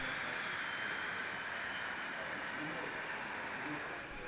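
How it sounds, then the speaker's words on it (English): A long Märklin model train loaded with ore runs across a large layout in an exhibition venue, giving a steady, continuous rolling rumble and hiss with no break. "Long trains, such as this exemplar loaded with ore, make their way across the layout."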